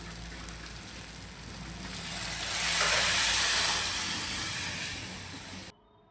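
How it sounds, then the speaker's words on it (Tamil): Buttermilk poured into a hot pan over sautéed tomatoes sets off a loud sizzling hiss that swells, holds for a few seconds, then cuts off abruptly. "இப்போ நம்ம மோரை இதை தூக்கி ஊற்றிடலாம்"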